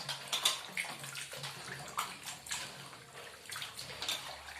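Greasy, oily wash water drains and splashes during dishwashing, a soft uneven gurgle with intermittent brighter splashes, fairly close but quiet, no talking.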